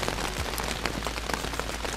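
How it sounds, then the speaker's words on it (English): Rain falls steadily on the Appalachian Trail, a soft continuous patter of drops hitting a surface, fairly quiet and even throughout. "Oh, it's the end of the day too, and here comes the rain."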